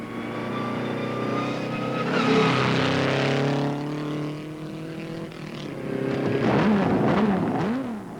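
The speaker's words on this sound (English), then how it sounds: "He restarts, but is now 2 laps behind the leader, Fangio" A Maserati Grand Prix racing car from the 1945–1965 era, suffering damaged valve gear, restarts and roars loud and close, its engine note climbing and falling through revs over a steady mechanical drone.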